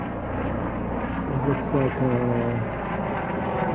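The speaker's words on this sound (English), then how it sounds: "it's actually the ambulance helicopter" An ambulance helicopter flies above a frozen river, its steady broad engine and rotor rumble continuing throughout while a person speaks briefly over it.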